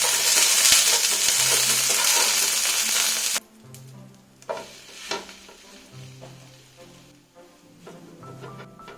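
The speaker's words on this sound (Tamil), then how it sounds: "விழுதை நல்லா பரப்பி விட்டுட்டு அப்படியே திருப்பி டோஸ்ட் பண்ணிக்கலாம்." Bread slices toasting in a pan coated with a coarse ground paste with coriander, a loud steady sizzle at first that drops to quieter frying crackle with scattered scraping pan knocks, no talking.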